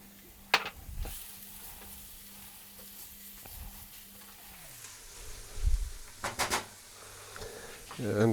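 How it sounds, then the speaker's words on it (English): Ginger sizzling in about two tablespoons of hot peanut oil, a soft steady frying hiss under a few clinks and knocks of a pan and utensil. "here I'm going to saute the ginger and the green onions. I have about 2 tablespoons of peanut oil going here"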